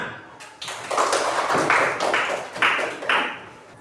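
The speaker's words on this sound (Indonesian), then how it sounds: "Tepuk tangan." An elementary school class in Indonesia claps together in a patterned rhythm, loud and close, with short bursts of hand claps in quick groups and no talk over them.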